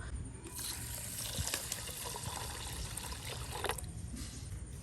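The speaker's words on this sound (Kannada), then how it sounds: "ಇದನ್ನ ಈಗ 3 ಸತಿ ನೀರಲ್ಲಿ ತೊಳಿಬೇಕು" Biryani rice being washed in water, a faint, close splashing and swishing with a few small clinks, with no voices.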